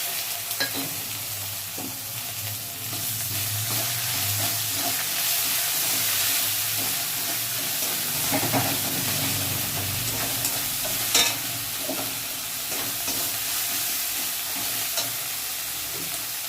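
Ground green chilli and cumin paste frying in a pan, a dense continuous sizzle with intermittent stirring scrapes and a brief louder clatter, close and steady throughout, no talking.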